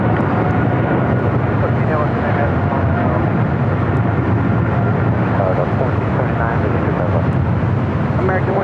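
Boeing 767-300ER airliner at LAX airport, a loud, steady broadband jet roar filling the whole stretch without letup, with faint voices mixed underneath.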